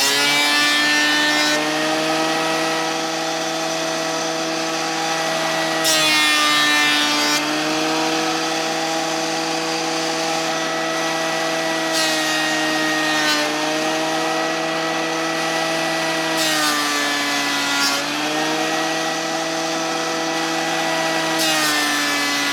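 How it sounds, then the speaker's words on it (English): A thickness planer shaves rough wood with a loud, continuous whining drone, its pitch dipping briefly several times as boards feed through. "the thickness planer is really good to take off a little capping"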